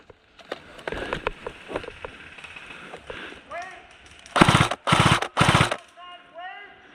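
Airsoft P90 firing during an outdoor airsoft game, several rapid bursts of loud, close automatic shots with short gaps between them, preceded by shouting voices and scattered clatter.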